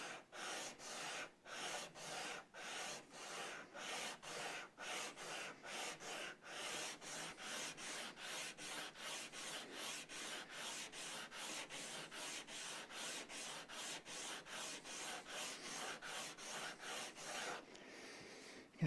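A 1985 Made-in-Japan Fender Telecaster guitar's wooden neck is sanded by hand with 220-grit sandpaper: a long run of steady, rhythmic rasping strokes, close and even, about two per second, ending with a brief pause.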